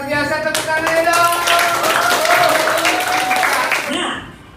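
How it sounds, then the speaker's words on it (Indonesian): An audience claps along, a burst of close, dense hand clapping that rises quickly and holds for several seconds before tapering off, with a voice sounding over it. "Luar biasa, tepuk tangan dong."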